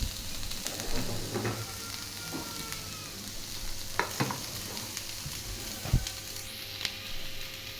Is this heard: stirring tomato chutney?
yes